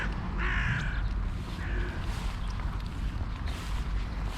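Silver gulls call in short, harsh cries near and at middle distance over a steady breezy background, a few calls standing out clearly.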